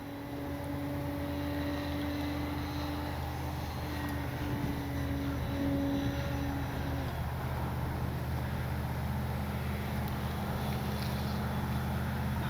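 A HobbyZone Carbon Cub S2 foam RC plane, about six years old, flies over a grass field, its electric motor whining steadily with pitch shifts as it passes near, under a constant bed of wind noise.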